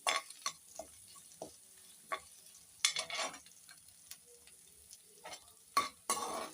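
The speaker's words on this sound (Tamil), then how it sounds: "வெங்காயம் கொஞ்சம் நல்லா வதங்கினோன்னு கொஞ்சமாக கருவேப்பிலை இல்லை ஃப்ரெண்ட்ஸ் அதையும் அதோட சேர்த்து வதக்கிக்கலாம்" Onions and curry leaves being sautéed in a pan for a pumpkin roast, heard as a sizzle with repeated scraping stirs of a spoon at close range, no voices.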